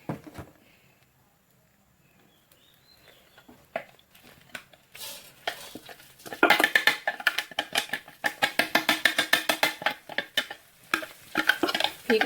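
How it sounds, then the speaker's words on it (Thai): Blended chili paste being stir-fried in a pan with a utensil: quiet scraping at first, then loud rhythmic scraping strokes over a sizzling sputter, close and repeated fast. "ปั่นเสร็จแล้วก็มาผัดกันเลย"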